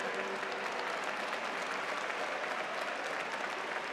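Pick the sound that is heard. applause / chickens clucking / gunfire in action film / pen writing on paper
applause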